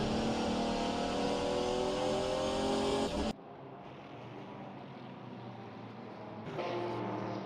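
GT3 race cars, including a Corvette, a Porsche and a Ferrari, roar around Portland International in sim racing, a loud steady engine drone that drops abruptly to a quieter, thinner engine note partway through, then swells slightly again near the end.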